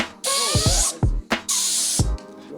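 Bursts of compressed air from an air compressor nozzle jammed under plastic to blow it up like a balloon, loud hissing blasts alternating with short pauses and thumps, close by with no talking.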